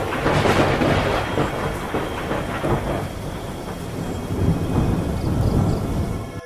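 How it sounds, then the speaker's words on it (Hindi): A sudden storm at sea gives off a steady, heavy roar of wind, waves and rumbling thunder that holds loud and dense throughout, with no voices. "तभी अचानक उस समुद्र में तेज तूफान उठने लगा और लहरें ऊपर नीचे करने लगी।"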